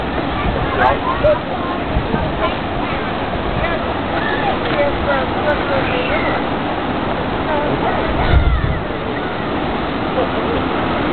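Ocean water surges and churns into Thunder Hole, a rock inlet in Acadia National Park, Maine, as a loud, continuous roaring wash with a heavier low rumble near the end. Wind buffets the microphone.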